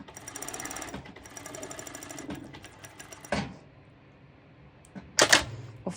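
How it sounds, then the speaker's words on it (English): A zigzag sewing machine top stitches a ruched skirt in fast, steady mechanical bursts, pausing between runs, with a couple of louder clunks near the end. "I showed in a lot of videos how I top stitch using my my zigzag sew machine."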